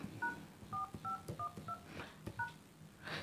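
Phone dialer keypad tones on a Realme Narzo 70x 5G as an access code is entered: six short, clear two-tone beeps in an uneven sequence, faint and close, over quiet room noise.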